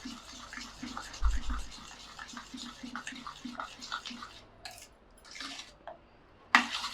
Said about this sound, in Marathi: आणि असं छान पेटून घ्यायचं दही